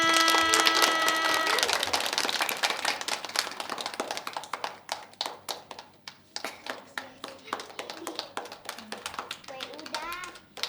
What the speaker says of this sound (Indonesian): sekali lagi tepuk tangannya yang banyak